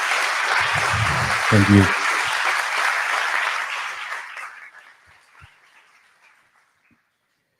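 A conference audience applauds the organizing and scientific committees at the closing, with dense clapping that tapers off to silence and a brief spoken thanks over it.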